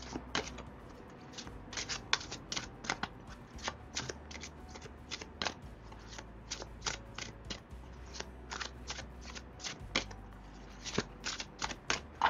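Oracle cards on thick, glossy stock being shuffled by hand, a steady series of crisp riffling bursts and soft slaps repeating throughout, fairly close and with no talking.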